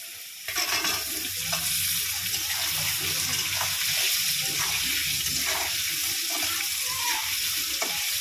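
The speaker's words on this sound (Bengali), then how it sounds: "এবার আমি আলুগুলো ভেজে নেব।" Sliced potatoes fry in hot oil in a pan, giving a steady bright sizzle with some stirring and clatter underneath, close and continuous.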